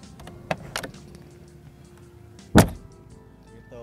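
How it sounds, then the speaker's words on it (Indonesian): The door of a Mercedes-Benz G400d G-Class shuts with a sharp, loud latch clack, preceded by a few lighter clicks and followed by a quieter whirring sound. "ada suara klek ketika teman-teman menutup pintu dari sebuah Mercedes-Benz G-Class"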